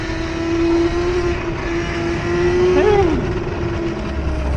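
A car drives along a snowy street in a snowstorm, a steady engine hum that rises and bends in pitch as it comes near, loud and close, then eases off.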